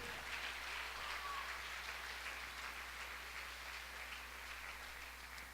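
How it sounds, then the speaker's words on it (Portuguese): Church congregation clapping in praise during a Portuguese-language service, a steady, even patter of many hands heard at a moderate distance, sustained without a break or voices over it. "Uma salva de palmas para o Senhor."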